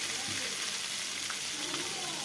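Food fries in a kadai with a constant close hiss of oil and faint stirring underneath, one unbroken sizzle with no talking.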